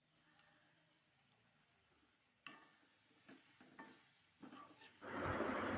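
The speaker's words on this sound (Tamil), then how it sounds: "நல்லா கறியை கலந்துட்டுனேன்" Pepper chicken curry is stirred in a pan, with quiet scraping and a few sharp clinks of the spoon against the pan, followed by a rising burst of sizzling frying near the end.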